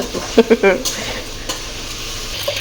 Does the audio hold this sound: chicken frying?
yes